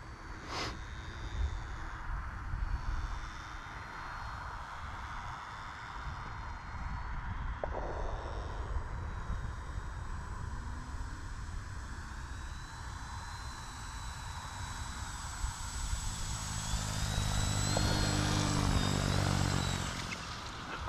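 A Durafly Auto-G2 V2 radio-controlled model autogyro in flight in the evening, its electric motor and spinning rotor giving a steady buzzing whine that drifts in pitch and swells louder toward the end as it comes closer.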